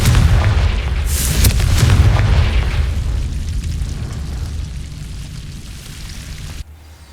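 A Confringo explosion spell cast in Hogwarts Legacy lands as a heavy booming blast, followed by a rumbling decay that fades over several seconds before cutting off.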